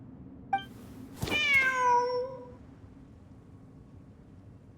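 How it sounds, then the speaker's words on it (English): A cat in a video game gives one clear, drawn-out meow with rising and falling harmonics, near and fairly loud over a low ambient hum, with a short click before it. "Wait, there it is! The cat!"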